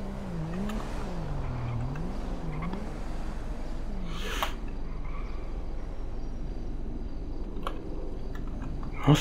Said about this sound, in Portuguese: a polícia passou a mil aqui, mano